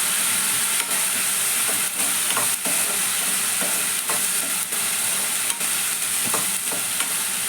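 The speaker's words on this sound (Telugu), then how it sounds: "ముందు మసాలా వేయించుకుంటేనే బాగా ఫ్రై అవుతుంది" Masala spices fry steadily in a pan for a rajma curry, giving a loud, continuous sizzle broken by regular scrapes and clicks of stirring, with no voices.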